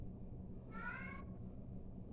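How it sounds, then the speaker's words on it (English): A pet cat throwing a fit lets out a single short, rising meow, clear and near, set against a steady low background hum. "My cat is throwing a fit because I took away his the ornaments off my tree."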